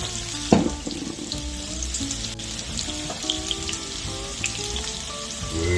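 Oil and a little butter heating in a skillet over medium heat for a loaded breakfast, giving a steady crackling sizzle with scattered pops and a soft watery hiss throughout.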